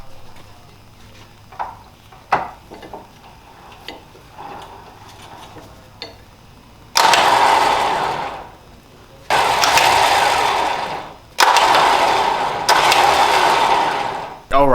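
A Harbor Freight winch motor on a Jeep WJ Grand Cherokee runs in three loud, steady bursts of several seconds each with short pauses between, after some quieter clicks and switch noises.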